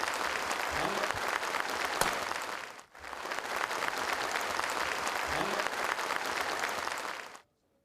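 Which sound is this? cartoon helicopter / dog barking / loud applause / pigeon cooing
loud applause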